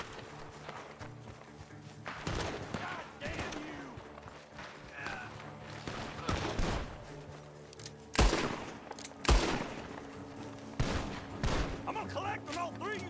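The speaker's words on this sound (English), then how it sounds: "The gunshots are coming from that barn!" Gunfire rings out from a barn in a Western-style video game: scattered shots and bursts, some sharp and close, others farther off, over a steady ambient bed with occasional voices and movement sounds.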